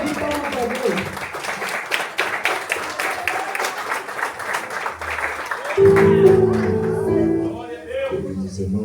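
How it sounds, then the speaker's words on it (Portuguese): Applause from a church congregation welcoming a pastor, steady clapping that runs under a busy mix of voices and music, with a sustained tone and instruments swelling near the end. "Vou receber o pastor Marcelo com uma linda salva de palmas para Deus."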